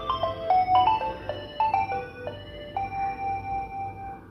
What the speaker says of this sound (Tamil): இதில் இருக்கக்கூடிய பாலிஃபோனிக் ரிங்டோன் வந்து ரொம்ப எக்ஸ்க்ளூசிவானது